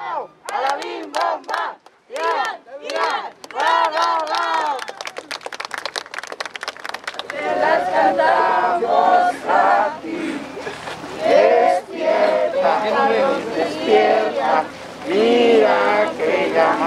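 Mourners at a burial in Mártires de Chinameca clap, chant and cheer in farewell, a loud continuous crowd din with rhythmic group shouts throughout, building fuller in the second half.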